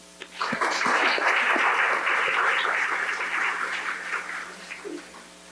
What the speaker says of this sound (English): Let's applaud this long overdue accomplishment